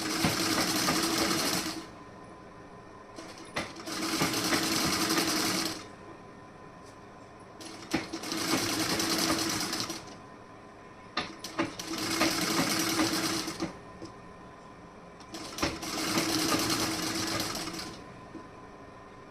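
A sewing machine stitches piping onto a blouse in five separate bursts of rapid mechanical whirring, each about two seconds long, with quiet pauses and small clicks between them as the fabric is pulled along.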